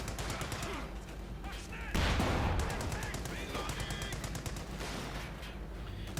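Gunfire from a Company of Heroes 2 match, including a Pak 40 anti-tank gun firing amid rifle and machine-gun bursts, with a loud heavy blast around the two-second mark over steady battle noise.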